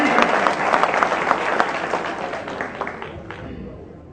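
Audience applause at a Hindi comedy poetry gathering held for a Maharaja Agrasen Jayanti festival, a dense, steady wash of many hands clapping that fades slightly toward the end.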